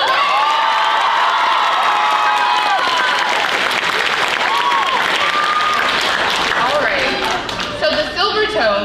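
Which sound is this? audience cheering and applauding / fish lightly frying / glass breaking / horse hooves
audience cheering and applauding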